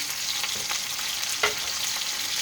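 Pork chops fry over medium heat in a pan with a little bacon grease, giving a continuous close sizzle with faint crackles and one brief sharper pop.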